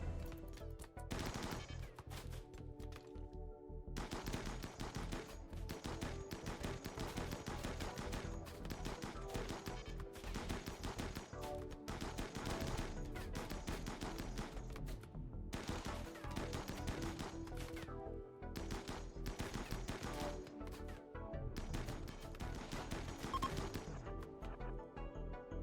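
Raiders open fire in RimWorld, with loud, sustained bursts of gunshots and machine-gun fire cracking in rapid, overlapping volleys, broken only by brief gaps, and continuing for nearly half a minute.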